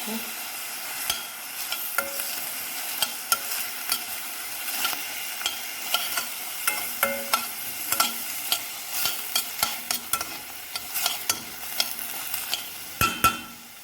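Okra stir-fried with garlic and a little tomato puree in a pan: continuous close sizzling with repeated rhythmic scrapes and taps of a spatula, loudest toward the end, without speech.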